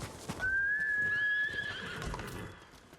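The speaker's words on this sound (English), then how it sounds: "This horse got loyal quickly." Horse in the video game Ghost of Tsushima lets out a loud, clear rising whinny, close by, with soft hoofbeats and outdoor ambience underneath.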